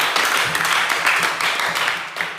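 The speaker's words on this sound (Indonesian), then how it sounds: "Tepuk tangan dulu." A classroom claps for a group that has just finished presenting, giving a brief burst of steady, fairly close applause from students with no talking over it.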